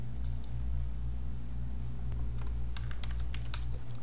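Computer keyboard typing during PHP coding, a short run of faint, quick key clicks over a steady low electrical hum, no voice.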